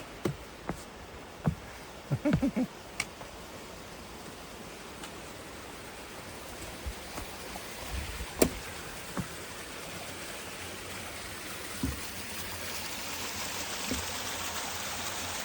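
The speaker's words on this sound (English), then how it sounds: "Nice little spring cascade down to the water." Soft, steady trickle of a small spring cascading into a pool on the Yellow Creek Falls Trail, a constant gentle wash with a few scattered clicks and knocks over it.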